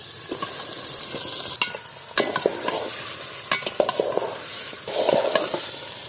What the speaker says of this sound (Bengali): মশলাটা কষানো হয়ে গেছে এখন রাওয়ার মাংসটা দিয়ে নেব।